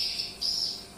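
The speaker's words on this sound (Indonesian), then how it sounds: "Ini anakan walet yang baru mulai belajar terbang." Swiftlet chicks in a swiftlet house give a thin, high, buzzing chirp in two short bursts, close by, with no other sound beside it.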